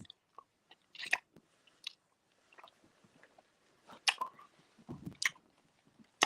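Close-up crunchy chewing and biting in irregular bursts with short quiet gaps, wet clicks and crunches of someone eating hard sweets.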